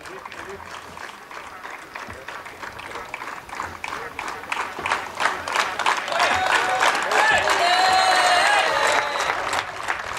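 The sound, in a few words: applause and cheering for speaker called to stage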